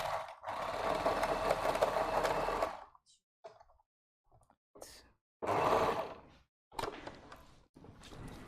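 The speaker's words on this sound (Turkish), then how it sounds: "4 iplik overlockla dikiyor." A four-thread overlock sewing machine stitches stretchy fabric for a sports dress, a loud steady whirring burst followed by shorter stop-start runs of stitching separated by silence.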